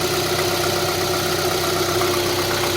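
Kia Forte LPi from 2011 with 140,000 km, its engine idling in cold winter weather with slightly raised revs; a steady, close, even hum with a faint regular ticking and no knocking or rattles, with no voices.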